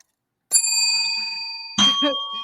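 Two bright bell dings ring out close and loud, the first ringing on with a long decaying tone and the second struck just over a second later, with a brief voice in between.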